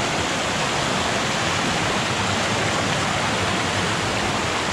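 Loud, dense roar of a swollen river rushing over rocks after heavy rain at a crossing in Costa Rica, a constant broadband wash with no breaks and no voices.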